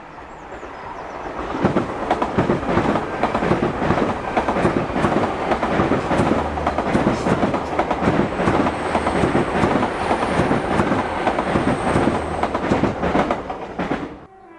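Two GWR Class 800 IET trains run coupled past Keam on a Penzance to Paddington service, a loud close pass with a rapid, rhythmic clatter of wheels over rail joints that builds quickly, holds steady and then cuts off.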